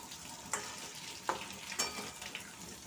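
Mankochu and potato curry with cumin and coriander powder stirred in a pan, a soft steady sizzle with a few distinct scraping strokes of the spoon, fairly quiet and close, no speech.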